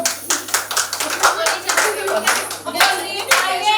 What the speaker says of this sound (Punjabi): ਸਾਰੇ ਤਾੜੀ ਮਾਰਿਆ ਕਰੋ